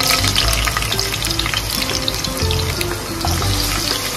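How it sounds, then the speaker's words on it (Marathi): Garlic and green chillies sizzle steadily in hot oil in a pan over a low flame, a close, continuous frying hiss with light stirring, no voices. "लसूण थोडं परतवून घेऊया"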